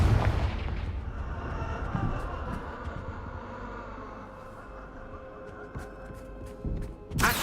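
Confringo blasting spells go off in the Hogwarts Legacy video game, a loud booming blast at the start fading into a rumbling tail, with another burst at the end.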